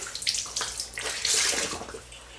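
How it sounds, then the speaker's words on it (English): Warm tap water running steadily over a razor head at a bathroom sink, a close, continuous splashing and hissing stream with small fluctuations as the blade moves under it. "So I'm gonna go ahead and rinse off my razor right now."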